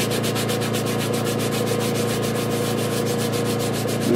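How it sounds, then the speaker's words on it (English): A 180 grit sanding sponge rubs brass on a pump part in quick, even back-and-forth strokes, loud and close, making a continuous rasping scrub with a regular rhythm throughout. "I got this 180 grit sanding sponge."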